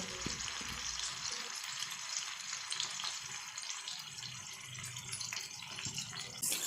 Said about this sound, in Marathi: आता हे तेलामध्ये आपण छान परतवून घेणार आहोत